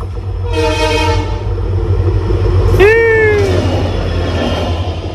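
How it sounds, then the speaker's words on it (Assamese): A diesel locomotive's horn blares once, loud and close, with strong harmonic tones and a sliding pitch, over the steady low rumble of a passing train. "ট্ৰেইন আহিছে"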